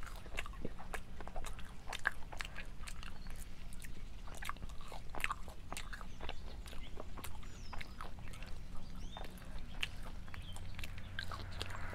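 Close, crisp bites and crunchy chewing of fries and chicken wings, a steady run of small crackles and mouth sounds with no talking.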